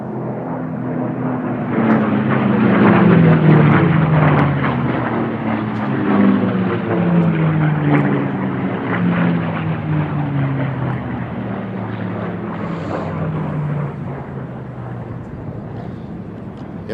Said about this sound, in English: Let's listen to the amazing sound of liquid-cooled V-12 aircraft engines.